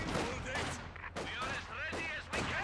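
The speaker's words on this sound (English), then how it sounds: "Sniper's still in there, getting some shots in" Rapid sniper rifle shots in a competitive online shooter match, sharp broadband cracks repeating at uneven intervals, mixed with game noise and a commentator talking over them.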